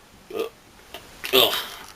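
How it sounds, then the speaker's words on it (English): A man lets out a short burp during spoken commentary, a brief guttural belch between bits of talk, close to the microphone. "sorry, I had a burp there."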